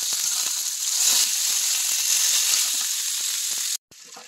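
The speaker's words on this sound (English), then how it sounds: "I like to hear the sizzling of the sear meat." Beef shank searing in a hot pan, a loud continuous bright sizzle with small crackles and pops, close up, cutting off abruptly near the end.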